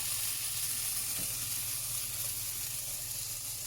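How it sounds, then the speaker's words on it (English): Bread frying and caramelising in a pan for bread and butter pudding, a steady, loud hiss of sizzling with faint stirring, no voices. "that there's starting to caramelise up. We're just going to flip it over."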